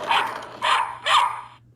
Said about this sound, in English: And then you hear the dog.